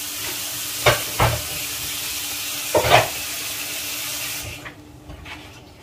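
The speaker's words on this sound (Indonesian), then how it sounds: "Kemudian kita aduk." Soto ayam broth in a pot is stirred, giving a couple of pairs of knocks and scrapes from a utensil over a steady hiss of heat, and the hiss drops away near the end.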